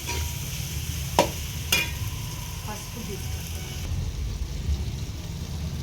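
Chicken with turmeric frying in a pan, a steady close sizzle with a couple of sharp clinks of a utensil against the pan, no talking.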